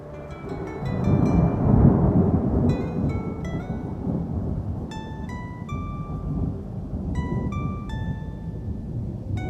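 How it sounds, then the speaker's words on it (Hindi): A heavy thunderstorm with rumbling thunder and steady rain, mixed with bright chiming tones, loud and continuous with no voices. "बारिश की पहली तेज बूंदें गिरने लगी थीं और उसी के साथ शुरू हो गई रामेश्वर की असली जंग"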